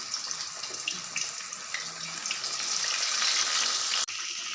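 Fish pieces fry in hot oil for a restaurant-style fish fry, giving a steady, close hiss and crackle that swells louder near the end and then cuts off briefly.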